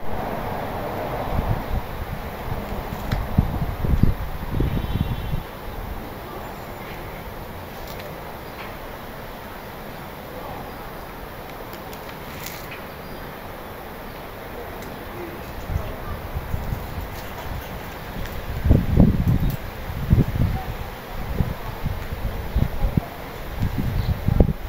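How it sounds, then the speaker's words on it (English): Gusty wind buffets the microphone outdoors in low rumbling bursts, strongest near the start and toward the end, with faint bird sounds in the background. "as nice as the weather is, it's a bit cloudy. And we have a very nice setup here, but as I showed, it's a bit windy"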